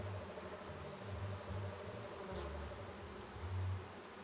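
Honey bees buzz steadily during a December beehive inspection, a continuous low droning hum with gentle swells, fairly quiet and without any talk.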